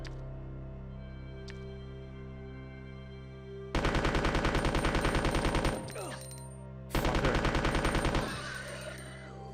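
Gunfire in Resident Evil 2, two loud bursts of rapid machine-gun shots, each lasting about two seconds, with quiet background between and a brief spoken word before.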